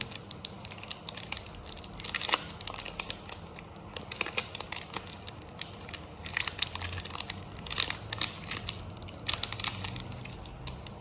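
Crinkling and crunching of a Feastables chocolate bar wrapper, an almond variety, being torn open: steady close-up plastic rustle with sharper crackling bursts throughout, no talk.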